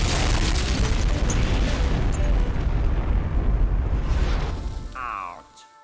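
Archival footage of the Baker nuclear bomb test at Bikini Atoll, a continuous deep roaring rumble with broad noisy crackle, loud and sustained, gradually fading near the end beneath a brief overlaid tone.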